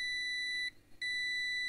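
A faulty LG microwave oven emits a loud, steady electronic beep tone that cuts out briefly partway through, then resumes just as strongly.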